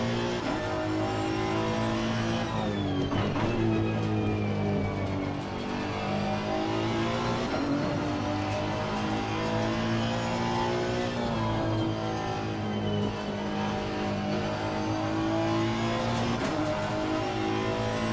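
A Honda NSX EVO GT3 race car in Assetto Corsa Competizione revs and accelerates around Barcelona, its engine note climbing and dropping through gear changes. The roar stays loud and steady throughout, with no voices.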